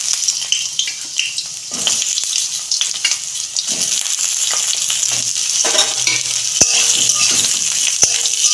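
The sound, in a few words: ridge gourd frying in oil in a wok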